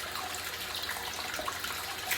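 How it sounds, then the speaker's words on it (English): Water from a tap runs steadily into a shaving bowl of soap lather as the lather is built, a continuous close hiss and trickle with no talking. "Just get a little bit more water in here."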